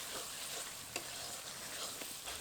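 Marinated soya chaap being sautéed and stirred with spices in oil, giving a steady soft sizzle with a few light scrapes of the spoon against the pan, close by, no voices.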